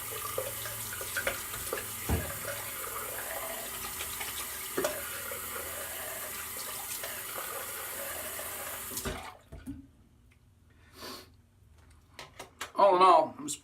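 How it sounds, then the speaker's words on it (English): A bathroom tap runs steadily for a cold water rinse after a traditional wet shave, a continuous faint hiss that stops abruptly partway through, followed by quiet and a few splashes. "go for the cold water rinse."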